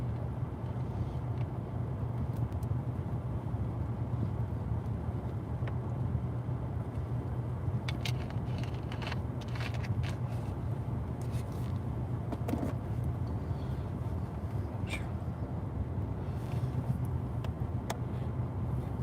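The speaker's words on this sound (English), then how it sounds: "So I'm having to run the car, burn gas" A car engine idling steadily as a low, constant rumble that runs throughout, with faint scattered clicks and rustles over it and no talk.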